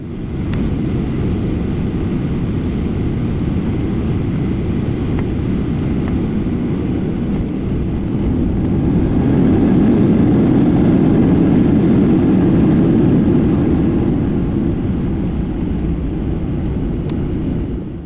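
Airplane cabin noise on the landing approach, a loud, steady low engine rumble and roar that swells slightly midway and never lets up.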